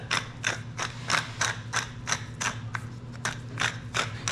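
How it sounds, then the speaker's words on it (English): A pepper mill grinds fresh pepper over a steak in a kitchen, giving a steady, rhythmic series of about a dozen close, crisp ratcheting cranks with no talk. "Now we want to grind some fresh pepper on it"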